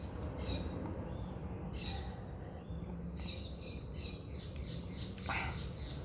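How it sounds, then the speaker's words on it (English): Morning birds sing and squawk outdoors in a steady stream of chirps and calls over constant low ambient noise, with several louder calls standing out and no one speaking. "The morning birds singing"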